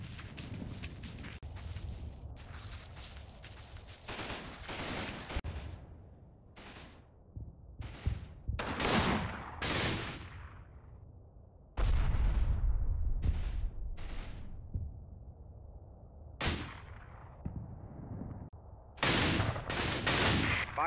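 Battlefield gunfire in Combat Mission Battle for Normandy, a WWII Normandy wargame: bursts of machine gun fire and single sharp shots cracking at varying distances, interspersed with heavier booms and quieter stretches of distant rumble.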